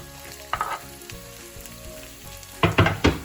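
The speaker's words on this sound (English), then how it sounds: "Once the oil is hot, we'll start with the ginger and the garlic and also the chilies." Ginger, garlic and chilies hit hot oil for an Indo-Chinese chilli prawn starter, giving a short sizzling burst, a lull with soft stirring, then a louder cluster of three sharp sizzles near the end, with no talking.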